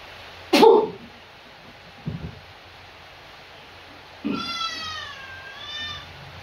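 A cat lets out a sharp, close cry, then a short grunt, followed by a longer wavering meow against a quiet background.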